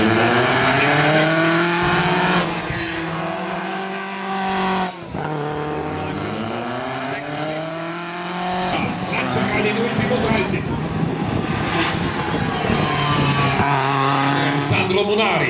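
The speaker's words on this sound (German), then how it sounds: "ist ein Original-Trainingsauto von Walter Röhrl gewesen in der Zeit, als er mit diesen Exemplaren unterwegs gewesen ist, mit später 330 PS" Classic rally car, a former works training car of 330 hp, driving at speed at a historic motoring event, engine revving and rising through gears with rasping notes while an announcer talks over it.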